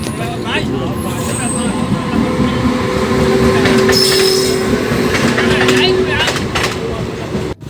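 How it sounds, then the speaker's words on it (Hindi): A train rumbles past a closed railway crossing, loud and near, with steady wheel clatter and brief metallic squeals. "यहाँ पे आप रेलवे क्रॉसिंग बंद है फ़िलहाल, और शायद कोई ट्रेन आ रही है, ट्रेन आने वाली है।"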